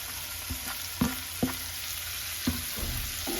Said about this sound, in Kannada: ಈಗ ಹಸಿಮೆಣಸಿನಕಾಯಿ ಫ್ರೈ ಮಾಡ್ಕೊತಾ ಇದ್ದೀನಿ.